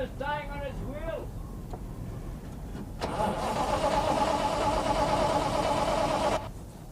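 An old car engine cranks and catches, then runs with a steady rough mid-pitched drone for a few seconds before cutting off, after a voice speaks briefly at the start.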